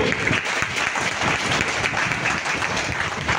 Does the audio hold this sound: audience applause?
yes